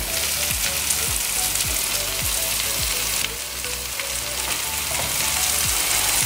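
A steady sizzle of button mushrooms frying in butter in a pan, with regular scraping strokes of a utensil stirring through them, close and continuous.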